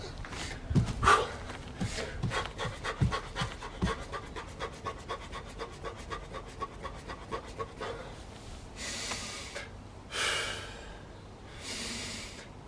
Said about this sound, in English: Yep, I'm getting out of breath now.